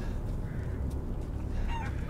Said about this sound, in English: Oh, it's a chicken.